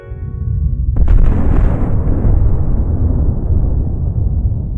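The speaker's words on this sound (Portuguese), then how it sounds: "Com a explosão da bomba atômica, esse discurso perde o sentido." A deep, massive atomic bomb explosion booms and then rolls into a long, thundering rumble that keeps roaring loudly without fading.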